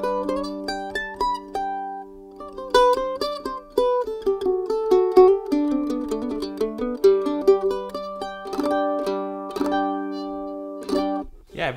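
A mandolin picked through a DPA microphone in a live sound setup, playing a melodic run of bright plucked notes over steady drone-like ringing strings, close and clear with no voices.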